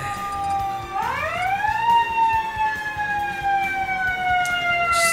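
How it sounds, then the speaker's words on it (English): An emergency vehicle siren wails past a house, its tone rising and then holding a steady sustained pitch, loud and close for several seconds. "The fucking sirens that go by my house every goddamn minute"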